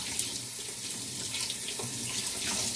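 Sea moss is rinsed under a running kitchen tap, a steady close stream of water splashing into the sink throughout with no talking.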